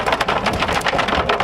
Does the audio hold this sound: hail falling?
yes